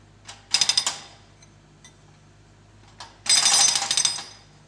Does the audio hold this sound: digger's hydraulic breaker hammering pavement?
yes